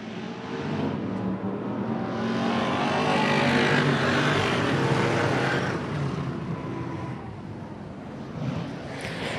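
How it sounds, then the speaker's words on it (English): Classic race cars roar around a motor speedway in a feature event, a loud, continuous engine drone that swells and fades slightly as the pack passes. "Out of turn number four, we're going to go underway in your classic car feature event."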